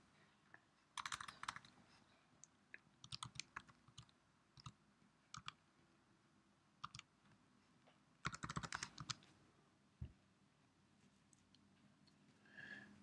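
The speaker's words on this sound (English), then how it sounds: "I'm going to type in the password that came with ours here." Keys clicking on a computer keyboard as a default modem password is typed in, irregular quiet bursts of taps with pauses, close by and alone without talk.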